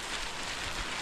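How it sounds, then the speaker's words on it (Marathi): Heavy monsoon rain at Manikgad fort, a steady broadband hiss of downpour, moderately quiet but continuous, with no voices or other sounds. "पाऊस जोरात चालू आहे."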